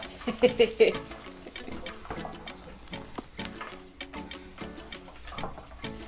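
Hands are washed under a running kitchen tap while cooking peppered steak, with a steady faint stream of water and irregular splashes and clatter close by.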